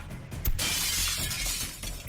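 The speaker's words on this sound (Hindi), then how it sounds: "ये कांच तो चकनाचूर हो गया" Glass shattering loudly, a sharp crash followed by a bright, sustained spray of breaking shards over low rumbling noise, in a staged bank-robbery challenge setting.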